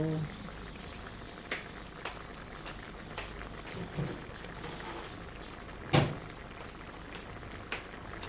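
Chicken breast guisado with vegetables and potatoes simmers in a pot with a soft, faint bubbling, broken by a few clinks and knocks, while a voice talks quietly at times.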